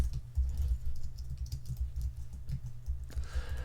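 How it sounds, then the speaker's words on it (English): Typing on a computer keyboard to enter a name into video-editing software: a steady run of soft key clicks set against a loud, constant low hum, with no speech. "I'm going to type my name in here"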